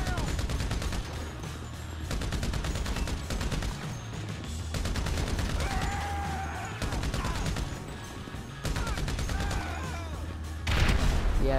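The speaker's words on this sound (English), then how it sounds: "They keep shooting the same guy that's on the ground already." Heavy gunfire in Grand Theft Auto V, repeated sharp shots and machine-gun bursts fired continuously at a downed man, loud and close with brief pauses.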